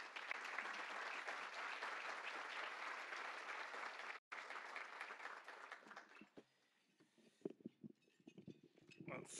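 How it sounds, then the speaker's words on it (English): Audience applause greets Dr. Scott Hopes at a Manatee Chamber of Commerce State of the County address, broad steady clapping for about six seconds with a brief dropout, then thinning into scattered claps and room noise. "So please, with a big round of applause, welcome Dr. Scott Hopes."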